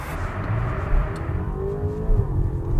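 A 2025 Audi A5 e-Hybrid accelerates hard off the line, with a loud, steady engine and road roar heard from inside the cabin and a tone that rises gradually.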